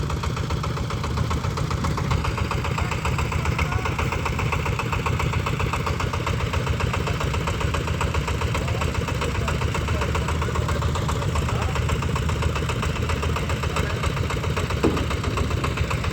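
A boat engine on a river sand-collecting boat idles steadily for the whole stretch, a constant low rumble and chugging vibration, close and even, with no voices.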